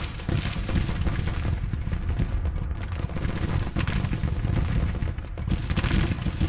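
Dense, continuous battlefield gunfire and booming artillery from the Grand Tactician: The Civil War strategy game, a steady loud roar of overlapping rifle volleys and cannon blasts with no pauses.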